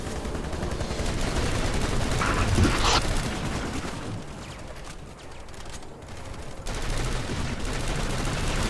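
Dense automatic gunfire from a Planetside 2 squad battle crackles steadily and loudly, with rapid overlapping bursts that briefly thin out midway before resuming at full intensity.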